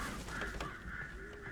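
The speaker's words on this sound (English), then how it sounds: "Birds!" Birds cawing in the video game Alan Wake, several harsh crow-like calls overlapping above a low ambient rumble, moderately faint, no talk.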